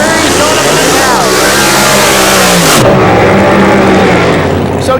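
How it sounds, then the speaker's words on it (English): A Hemi-powered 1948 Fiat Topolino drag car with a rear wing revs its supercharged engine at a drag strip, loud and close, with a sustained roar that climbs and then drops sharply before droning on. "Mr. Dave Dudley with his Hemi-powered 1948 Fiat Topolino."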